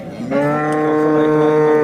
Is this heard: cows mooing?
yes